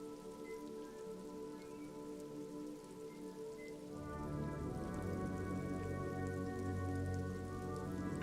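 Steady rain falls at an industrial harbor in the Disco Elysium video game, a continuous hiss layered over a low humming drone that swells louder and fuller halfway through, with no voices.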